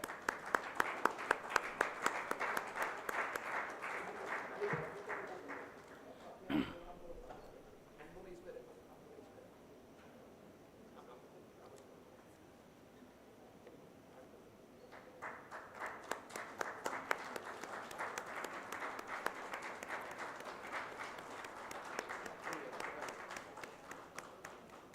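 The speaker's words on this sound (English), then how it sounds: "Please give a huge round of applause." Audience applause at an award ceremony, a dense burst of clapping at the start that thins out, then swells back loud and sustained later on, with talk underneath.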